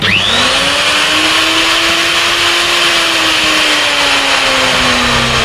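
A wood router motor whines steadily at high speed, loud and close, with a rising pitch at startup and no voices.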